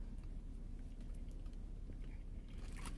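Someone bites into soft, garlicky, seasoned sandwich bread shaped like a garlic knot, giving close, soft crunching and chewing over a steady low background rumble, with a sharper crunch near the end.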